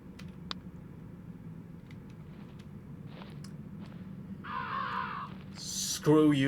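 Crows cawing in the horror video game The Dire, a few faint, distant harsh calls spread over a low rumbling background ambience, followed by a louder burst of noise at the end.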